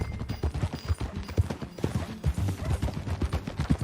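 Horse hoofbeats at a steady riding gait in Red Dead Redemption II, a dense run of low thuds continuing throughout under game ambience, fairly close and moderately loud.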